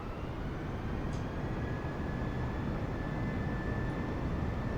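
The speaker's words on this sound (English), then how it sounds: "Then we whack on full throttle." Steady, loud broadband engine roar of a light aircraft at full throttle during takeoff in Microsoft Flight Simulator, continuous and unchanging, with no talking.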